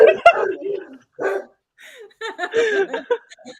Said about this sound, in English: that's our dog. When anyone comes, he's barking.